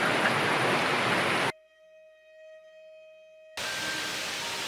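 Uchinsu waterfall in southwest Turkey: a broad, steady rush of falling water, interrupted midway by a pause with a faint tone before the roar returns.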